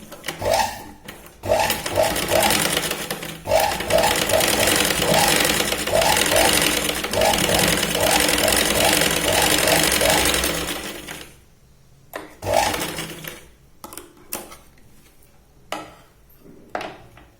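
Sewing machine running a double line of stitches on a Katori blouse, a long loud steady whirr with rhythmic ticking, then stops and gives several short bursts before going quiet, no talking.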